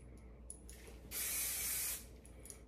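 A single short burst of hairspray from an aerosol can hisses for about a second in a quiet room, with faint rustling before and after.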